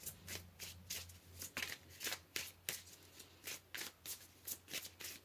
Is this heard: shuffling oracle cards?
yes